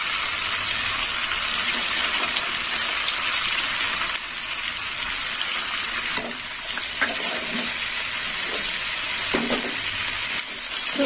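Soaked chickpeas sizzle and fry in a pan, a continuous close crackling hiss broken by scraping stirs and occasional louder spatters.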